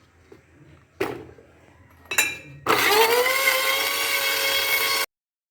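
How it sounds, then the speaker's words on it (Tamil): A mixer grinder grinds green chili, shallots and ginger into a paste, starting with two short bursts and then a loud, steady high whir that runs for a few seconds before stopping abruptly. "நல்லா ஃபைன் பேஸ்ட்டாக அரைச்செடுப்போம்"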